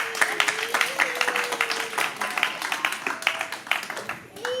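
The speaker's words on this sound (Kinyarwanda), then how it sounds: "Reka iki gikorwa abana baduteguriye tugihe amashyi nabo tubashimire" A church congregation applauds a children's performance, a continuous close burst of many hands clapping with a faint voice or tone running underneath.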